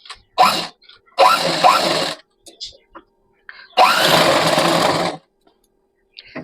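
A sewing machine stitches in three loud close bursts of rapid whirring, the longest near the end, separated by pauses with small handling clicks.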